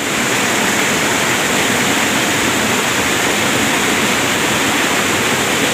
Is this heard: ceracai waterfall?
yes